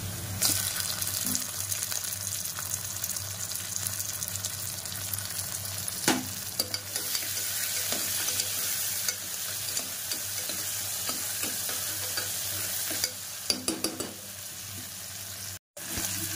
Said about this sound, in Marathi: कांदा आपला भाजून लाल झालेला आहे, तर आपण याच्यामध्ये टमाटो ॲड करूया।